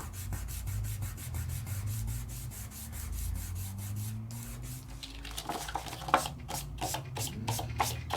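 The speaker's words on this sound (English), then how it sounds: "So I used to burnish like this." Metallic flakes being burnished onto a card by hand, a steady rhythmic rubbing, quiet and close, that turns into quicker, scratchier strokes near the end.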